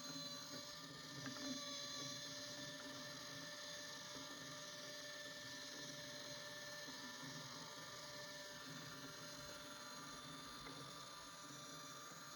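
A motorized auger lift in a retro sci-fi marble run drones steadily as it carries steel ball bearings up its shaft, a constant whirring mechanical hum with faint rattling, quiet and unbroken throughout.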